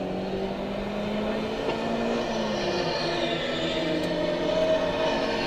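A race car drives along a circuit during an endurance race, its engine a steady, moderately distant drone that shifts pitch slightly as it passes, with no voices over it.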